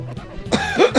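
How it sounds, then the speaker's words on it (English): A character in the video game The World Ends With You coughs, a couple of short, close, harsh bursts near the end after a quieter start. "He's coughing."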